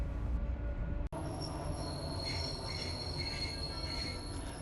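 An old Soviet-type electric commuter train in Latvia rumbles along the rails, with a high, thin wheel squeal that keeps going after a sharp clunk, steady and fairly quiet.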